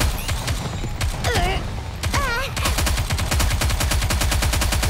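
Rapid sustained automatic gunfire in the video game Goddess of Victory: Nikke, loud and close, with mechanical whirring and chirping game effects layered over the steady shots.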